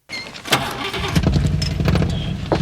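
An old car named Christine, dented and dirty, cranks over and catches, its engine starting with a few sharp clanks before settling into a loud, rough idle close by.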